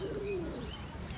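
A single soft, low coo from a pigeon, brief and close, over faint background noise.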